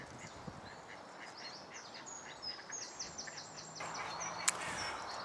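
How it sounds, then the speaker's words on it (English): Ducks and geese call near the water where someone is fishing for gudgeon, a run of short nasal quacks and honks at moderate distance over steady outdoor background noise, with one sharper call near the end. "the geese and ducks have come to see me now"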